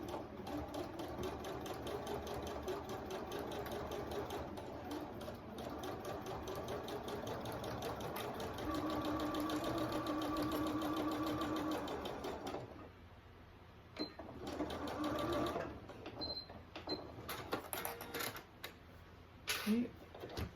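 A sewing machine runs a long continuous seam across a fabric photo ID pouch, a steady close whirring hum that stops partway through and gives way to quieter clicks and handling noises.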